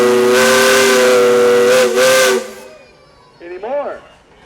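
Whistle of an 18-horsepower Gaar Scott steam engine at a pioneer days show: a loud, sustained steam blast with hiss that cuts off after about two and a half seconds, followed by a brief falling whistle toot.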